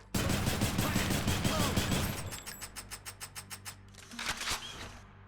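Exogryph rail gun firing in the video game Hades: a dense, loud automatic barrage, then an evenly spaced string of single shots, and a short final burst.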